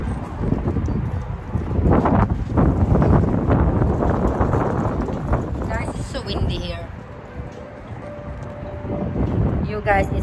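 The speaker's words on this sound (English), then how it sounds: "it's so windy outside" Strong wind blowing outdoors, a continuous loud roar and buffeting that fills the whole stretch, easing slightly near the end before gusting up again.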